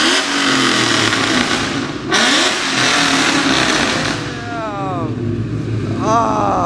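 A 5.0 car engine with replacement headers revs hard and drops off, then revs again, loud and close, with people talking and exclaiming over it.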